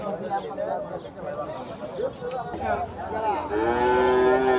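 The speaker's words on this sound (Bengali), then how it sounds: "আমরা আরো কয়টা ছোট ছোট বাছুর দেখব" Young Friesian calves lowing amid a busy, crowded cattle market, with people talking throughout and a longer, louder moo rising near the end.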